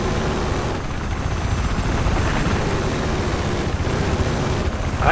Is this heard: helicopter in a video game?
yes